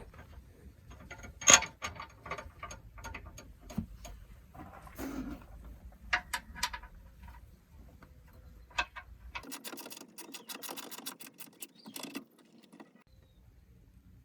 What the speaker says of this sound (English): We're going to start with the front 2 bolts. These are socket bolts, and they're 6mm Allen wrenches.